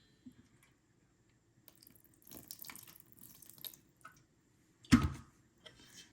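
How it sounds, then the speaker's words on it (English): Water runs briefly from a tap and is splashed into a four-ingredient peasant bread dough made with Costco flour, with soft squishy mixing noises around it and one louder splash near the end. "this is gonna need just a little splash of water"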